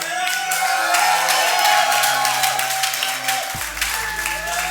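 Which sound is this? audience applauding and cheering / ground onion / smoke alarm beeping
audience applauding and cheering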